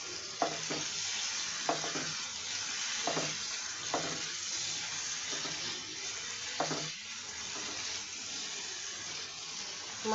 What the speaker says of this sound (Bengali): এখন মশলাটা কষিয়ে নেই আবারও।